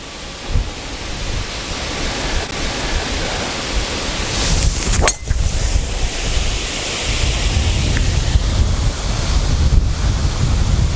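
Steady crosswind on a golf course at Casteljaloux, France, roars and buffets against the microphone throughout, with a brief gusty crackle midway and no voices.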